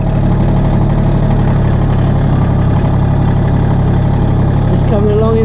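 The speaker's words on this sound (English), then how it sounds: "Just coming along in the tractor." A tractor engine runs steadily while driving along an off-grid homestead track, a constant low rumbling drone close by, with a brief higher tonal sound near the end.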